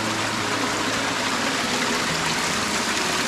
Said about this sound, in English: One of the tributaries to Cattle Creek.